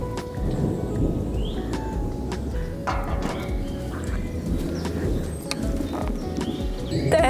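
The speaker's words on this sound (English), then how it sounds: "There's definitely a thunderstorm coming. We've got thunder" Thunder from an approaching thunderstorm rumbles low and steady across the whole stretch, with faint outdoor sounds such as birds and a distant jet above it, and no one speaking.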